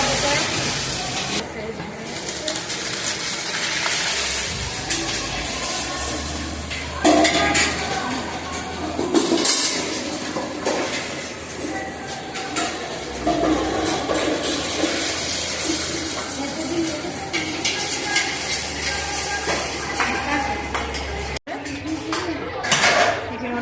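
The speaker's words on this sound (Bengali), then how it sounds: "হয়ে গেছে, তরকারি তোলা হচ্ছে।" Curry is ladled out of large pots at a festival cooking setting, with repeated metallic scraping and clinking of utensils against the pots amid hissing, watery background noise and surrounding voices.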